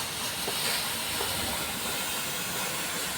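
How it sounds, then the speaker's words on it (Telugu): A mini fogging machine blasts fog in a steady, loud, unbroken hiss that runs the whole time with no pauses and no voices. "ఇలా ఫాగ్ అంతా బయటకు వస్తుంది"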